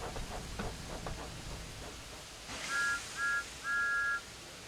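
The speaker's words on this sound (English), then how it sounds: "Thomas likes whistling cheekily at him." Thomas the Tank Engine sounds his steam whistle in three cheeky toots, two short and one longer, after a burst of steam hiss, with faint chuffing earlier.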